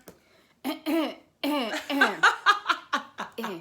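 A few quick coughs and throat-clearing sounds come first, followed by a burst of chuckling laughter, all close and fairly loud.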